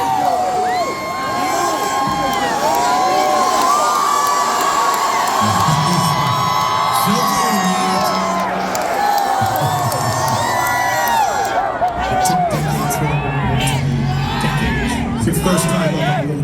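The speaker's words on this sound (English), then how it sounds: "We're cheering for you, man. You got this." A crowd cheers and whoops for a performer: loud, continuous shouting and high-pitched yelling from many voices close by, with individual calls rising out of the din throughout.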